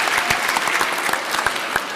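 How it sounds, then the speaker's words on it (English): An audience at a school debate gives a round of applause, brisk dense clapping close by throughout the short burst, with no one speaking over it. "Give her a round of applause for that."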